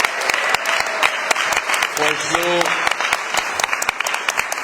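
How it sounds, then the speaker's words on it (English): Audience applause for panelists at a forum on anti-colonial struggles in Puerto Rico and Palestine, steady dense clapping throughout with a voice briefly speaking over it. "another round of applause for our panelists"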